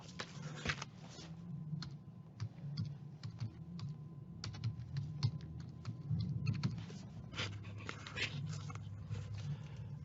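Typing a search on a computer keyboard, quick irregular clicks of keys in bursts and short runs, close and fairly quiet over a low room hum.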